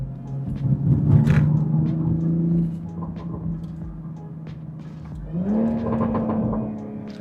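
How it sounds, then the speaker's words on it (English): Engine rumble from inside a Toyota Supra, rising as it accelerates, then a drop and a quick rev jump as it downshifts, steady and fairly loud. "we're just gonna start accelerating, and then I'll downshift a couple of times"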